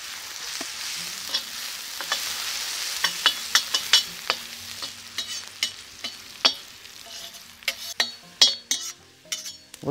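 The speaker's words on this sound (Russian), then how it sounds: "первым делом отправляем имбирь, чеснок и чили. Быстро это все обжариваем." Ginger, garlic and chili fry in oil in a heated kazan over a campfire, a quiet sizzle under frequent sharp clacks and scrapes of a utensil stirring against the metal, growing busier toward the end.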